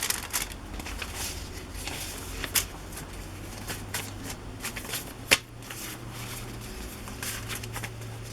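Sheets of scrapbook paper being handled and shuffled, a steady soft rustling and crackling with a few sharper flicks, close by and fairly quiet with no talking.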